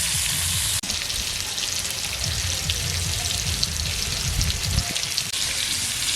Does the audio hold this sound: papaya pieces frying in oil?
yes